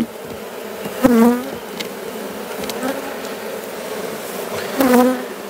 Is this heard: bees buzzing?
yes